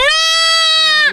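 Goat at kidding time lets out a single drawn-out bleat, close and loud, a wavering nasal cry lasting about a second, with a fainter, lower voice joining near the end.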